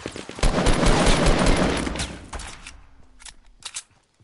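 Rapid gunfire in the Fortnite battle royale game, including grenade launcher fire, crackles loud and dense for about two seconds, then thins to scattered distant shots and a couple of sharp closer bursts.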